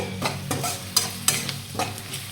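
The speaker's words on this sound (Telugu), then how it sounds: "ఒక చిటికెడు పసుపుని కూడా వేసుకొని ఒకసారి కలుపుకుందాము." A spoon stirs ginger garlic paste with salt and turmeric in a hot, sizzling pan, making a few scraping strokes over a quiet fry.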